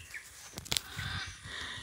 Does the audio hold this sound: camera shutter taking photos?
no